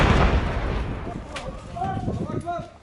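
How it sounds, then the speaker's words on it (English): A mortar round bursts just behind a building at the edge of the Abu ad-Duhur air base in Syria, a loud, heavy blast at the start that rumbles and decays over a couple of seconds, followed by faint distant voices. "A mortar round lands just behind their building."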